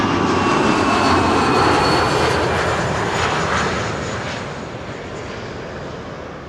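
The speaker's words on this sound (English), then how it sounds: "Saw a BizJet taking off from runway 22 just now." Business jet taking off from runway 22 at Schiphol, a broad rushing engine roar heard from a distance that is loud at first and then slowly fades as the aircraft climbs away, with no talk.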